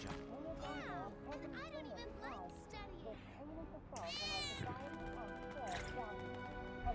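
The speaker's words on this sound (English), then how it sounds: "I swear I just heard a cat." Cat meowing in Final Fantasy 7 Remake, several high wavering meows repeating through the scene, mixed with game music and someone talking over them.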